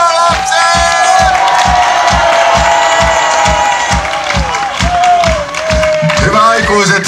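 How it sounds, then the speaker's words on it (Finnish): Audience at a show cheering loudly for child performers, a close, loud roar of shouts and whoops over rhythmic clapping that keeps a steady beat throughout. "erikoisen voimakkaat huudot näille lapsiesiintyjille, jotka rohkeasti tämän lattian täyttivät"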